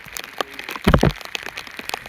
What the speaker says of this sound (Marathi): पाऊस काय थांबत नाही